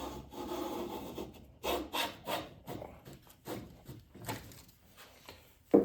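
A Lie-Nielsen #4 bench plane takes thin shavings off wood, giving soft, hissing swipes of uneven length, quiet and close, with short pauses between passes.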